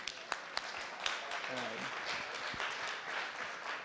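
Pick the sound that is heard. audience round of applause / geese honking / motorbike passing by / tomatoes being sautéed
audience round of applause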